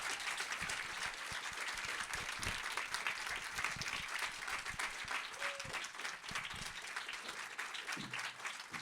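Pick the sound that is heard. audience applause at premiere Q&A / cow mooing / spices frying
audience applause at premiere Q&A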